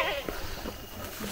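A goat bleats on a rural path, its wavering cry rising over steady outdoor background noise in a short, fairly close call.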